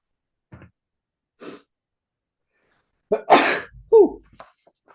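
A single loud, close sneeze bursts out around the three-second mark, preceded by a couple of faint breaths and followed by a short voiced murmur in an otherwise quiet room.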